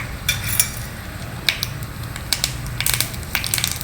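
Mustard seeds dropped into a spoonful of hot oil for tempering, crackling and popping in scattered bright bursts over a steady low sizzle, close and fairly loud.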